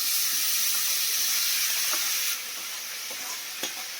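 Boiled bottle gourd and potato tipped into hot ghee in a pan, a loud continuous sizzle and hiss that drops a little partway through, with faint scrapes of stirring.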